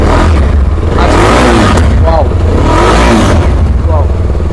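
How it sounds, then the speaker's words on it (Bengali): A CF Moto SR300 300cc motorcycle exhaust revs in a few short, rising blips over a steady idle, loud and close. "আমরা আপনাদেরকে এক্সস্টের যে সাউন্ড বা মাফলার যে সাউন্ড সেই সাউন্ডটা আমরা আপনাদেরকে শোনাবো"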